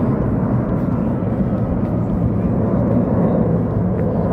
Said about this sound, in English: I think we got a plane taking off.